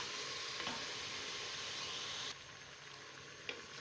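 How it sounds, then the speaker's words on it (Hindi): Mutton frying in a pressure cooker while being stirred, giving a steady hissing sizzle that drops slightly midway, with a soft scrape of the spoon and a small knock near the end. "2 से 3 मिनट के लिए हम गोश्त को भूनेंगे।"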